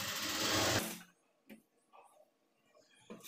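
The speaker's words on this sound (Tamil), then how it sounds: "மறுபடியும் இந்த க்ராஸில் வந்து தையல் போட்டுக்குங்க." A sewing machine stitching a blouse runs in a loud, steady whir that stops after about a second, followed by quiet handling clicks and rustles of fabric.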